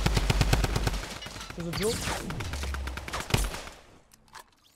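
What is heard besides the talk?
Tommy Gun firing in Fortnite, a video game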